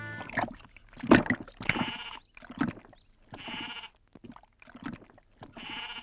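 A goat bleats several times in short, wavering cries separated by brief pauses, fairly close and clear with no talking.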